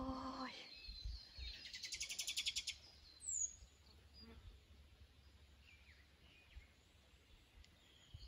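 Birds chirp around a pond in the rural Toyama countryside, a brief rapid burst of high trills early on, then faint scattered calls over a quiet outdoor hush.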